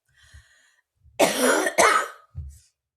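A person coughs twice in quick succession, close and loud, followed by a brief throat clearing, with faint soft sounds before.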